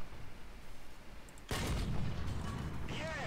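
A tank cannon fires in War Thunder, a sudden loud broadband boom after a quiet stretch, followed by a rumbling decay and a faint whistling tail.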